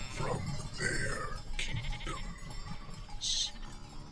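Several sheep bleat in wavering, nasal calls, a few overlapping bleats near and clear, with a soft voice faintly underneath.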